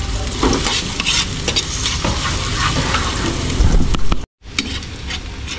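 Garlic and onion frying in a pan until golden brown, a steady close sizzle with stirring scrapes throughout, briefly cut off near the end before resuming.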